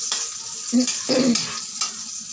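Food sautéing in a hot pan, with close sizzling and a few scraping stirs of a utensil over about two seconds, no talk.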